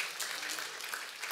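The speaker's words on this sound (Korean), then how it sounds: "박수 한번 격려해 주시기 바랍니다" A church congregation at an Easter Sunday service applauds, a dense, even wash of clapping from many hands that holds steady throughout.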